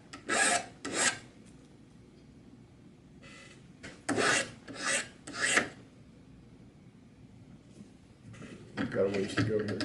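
A hand file rasps across a tool edge in several loud bursts of short back-and-forth strokes, with pauses between them, the last strokes running longer near the end.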